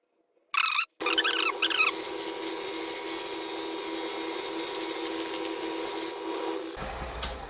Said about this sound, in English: I'm going to take a 5 thousandths cut right now